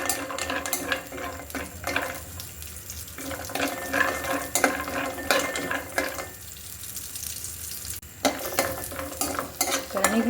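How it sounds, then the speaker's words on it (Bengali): Nuts sizzle and crackle in hot ghee while a spoon stirs and scrapes the pan in bursts, with short quieter pauses between rounds of stirring. "ঘিতে বাদামগুলো আমি একটু ভেজে নিব, হালকা ব্রাউন হওয়া পর্যন্ত অপেক্ষা করব"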